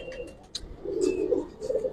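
Giribaz pigeons at a loft coo in low, rolling calls, with a soft flutter and a few sharper chirps overhead, fairly close and with no talk.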